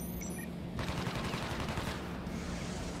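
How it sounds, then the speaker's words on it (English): Airstrikes in the Crisis Core: Reunion video game, a dense, loud barrage of rapid explosive bursts and crackling impacts, sustained and heavy with a shift midway. "Why are we getting so many airstrikes?"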